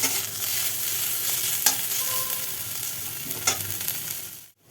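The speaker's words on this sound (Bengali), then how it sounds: "তো এখানে পেঁয়াজ আর আলুটা ভাজা হয়ে গেছে" Onion and potato frying together in a pan while making soupy Maggi noodles: a dense, even sizzle with a couple of sharp stirring clicks, close and steady, ending abruptly in silence.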